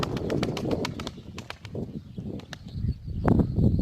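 Tumbler pigeons coo softly and repeatedly at close range, with scattered sharp clicks and rustling around them.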